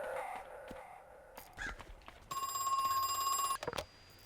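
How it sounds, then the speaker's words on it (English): A telephone rings in the horror video game Crow Country, a bright electronic ring lasting over a second, with soft game noises and short clicks before and after. "Somebody's ringing the phone again."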